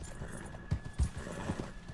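Rhythmic hoofbeats of a galloping horse in the video game Red Dead Online thud steadily up close, with a brief whinny mixed in.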